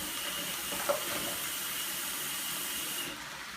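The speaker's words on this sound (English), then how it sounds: "I'm going to go ahead and add some water to this." Water pours steadily into a pot of curry chile on the stove, a continuous hissing, splashing rush that runs unbroken for a few seconds before easing off.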